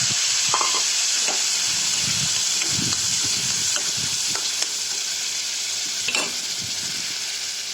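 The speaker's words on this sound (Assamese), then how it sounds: "খৰিচা আৰু মচুৰ দালি ভাজা প্ৰায় হৈ গৈছে" Steady, loud sizzling of khorisa (fermented bamboo shoot) and boiled masoor lentils frying in a pan over medium-low gas, with occasional scraping and stirring clatter throughout, no voices.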